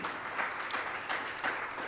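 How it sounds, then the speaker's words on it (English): Audience applause at a chamber of commerce event, a dense steady wash of clapping from a room of people at moderate, fairly faint level throughout. "Give Community Bank a great round of applause for putting this together."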